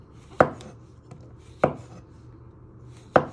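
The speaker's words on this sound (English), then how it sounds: "So you just keep slicing them into nice little pieces." Knife chopping through mushrooms on a cutting board for beef stroganoff, three distinct, evenly spaced thuds about 1.4 seconds apart, close and clear with no talking.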